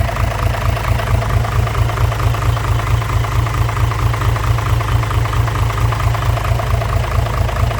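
A Hino six-wheel dump truck engine idles steadily up close, a loud, even low rumble with a regular chugging pulse and no voices.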